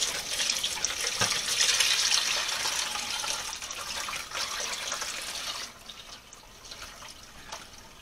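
Whey pours and splashes from white vinegar cheese as it is strained, a continuous close watery hiss that gradually softens, with a few drips near the end.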